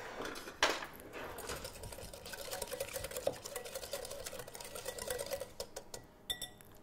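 Cinnamon, cumin, paprika and cayenne are whisked together in a small bowl, giving quiet, rapid clicking and tapping strokes that run on fairly evenly, faint and close.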